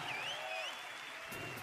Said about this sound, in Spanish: un aplauso grande para el maestro Camilo Salinas.